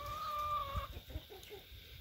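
A very large, turkey-sized meat chicken of roughly two kilos clucks and murmurs in a poultry shed, soft low calls close by over a steady background hum, with no talking.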